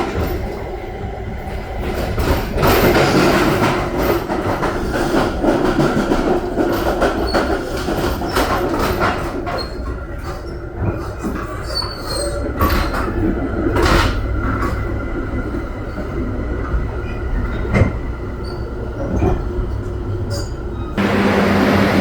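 A train rolls past near Dorval, Montreal, with a loud, steady rumble, rattling wagons and occasional wheel squeals, while a person talks over it at times.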